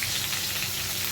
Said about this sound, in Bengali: খিচুড়িতে যেগুলো ভাজা সেগুলো সব ভেজে নেবো